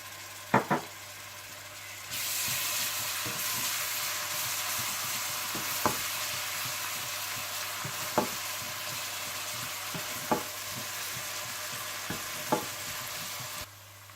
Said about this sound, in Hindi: आप इसमें अदरक लहसुन डालकर भून लें।